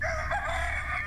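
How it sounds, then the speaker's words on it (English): A rooster crows in one loud, close, sustained cock-a-doodle-doo lasting about a second, with no voices. "Rooster, rooster."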